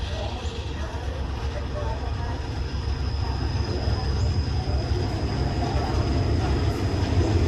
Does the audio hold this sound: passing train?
yes